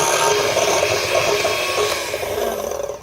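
A spoon works nutmeg and cinnamon into banana bread batter in a bowl, producing a steady, close scraping and rubbing sound that runs continuously with no speech over it.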